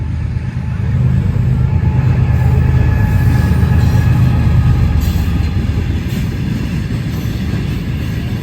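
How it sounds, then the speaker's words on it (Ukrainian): A train rolls steadily past close by, a loud continuous rumble of wheels and wagons that swells in after a second and holds, with faint squealing overtones above. "Їде, потяг, потяг їде."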